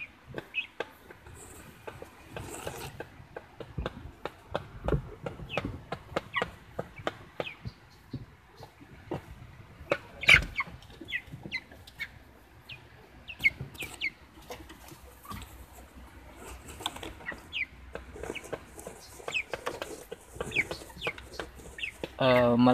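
Bantam chickens clucking on a rural backyard farm, with a steady stream of short, scattered clucks and occasional louder calls over about twenty seconds, moderately close but fairly quiet overall.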